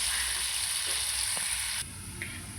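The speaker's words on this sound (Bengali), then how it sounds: "পেঁয়াজটা ভাজা হোক" Onions frying in a pan, a loud continuous sizzle and crackle that drops noticeably in intensity partway through, with a few faint stirring taps.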